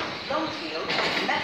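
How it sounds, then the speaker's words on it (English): A train idles at a platform at London Victoria station with a steady hiss and rumble, brakes or doors sighing partway through, fairly close. "And that's my train."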